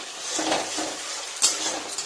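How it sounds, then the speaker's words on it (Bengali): Bitter gourd frying in a pan for shukto, with close scraping and clinking of a utensil against the pan over a soft sizzle, one sharper knock in the middle. "সেই শুক্তো করলা ভেজে নিচ্ছে সেখানে"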